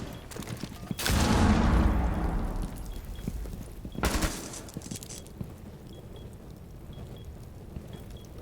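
Gunfire in Rainbow Six Siege rings out in two sharp bursts. The first is a loud, rapid volley that trails off, and a shorter crack follows a few seconds later, with quieter game sounds in between and afterward.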